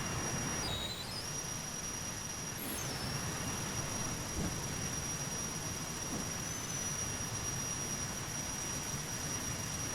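An airliner's jet engines whine and rumble steadily while taxiing in the flight simulator Prepar3D, with a constant broad roar and a sustained high tone that rises slightly early on.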